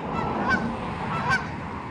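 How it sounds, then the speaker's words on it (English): Geese honking outdoors on a walk from Peabody to Salem, Massachusetts, two clear honks about a second apart over steady open-air background noise. "What up, geese?"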